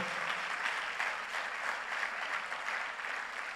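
Steady, continuous applause from a church congregation at a seminar, many hands clapping together in a dense wash at a moderate, even level.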